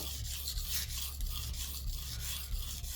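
A knife is drawn in repeated strokes across a sharpening stone, a steady rhythmic rasping scrape about three strokes per second, close and continuous, with no voices.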